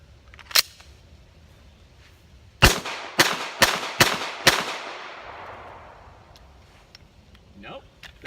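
A Ruger American pistol in 45 ACP fires one sharp shot, then after a pause five more in quick succession, each loud crack followed by a ringing echo that slowly fades.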